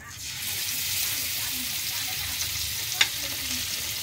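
Fish frying in a pan sizzles with a steady, hissing crackle throughout, with one brief sharp tick near the end.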